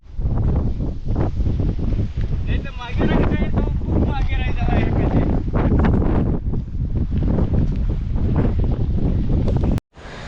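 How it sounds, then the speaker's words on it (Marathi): Strong wind buffets the microphone on a steep mountain climb toward a hilltop temple, a loud continuous roar with gusty bursts, while people talk over it throughout. "खूप खतरनाक हवा चालू है"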